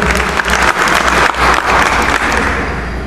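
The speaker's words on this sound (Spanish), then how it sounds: "Lo recibimos con un fuerte aplauso. Fuerte el aplauso." A teachers' day audience in Sullana, Peru, claps loudly and steadily for a union leader, a dense, sustained round of applause with a low hum beneath, tapering slightly at the end.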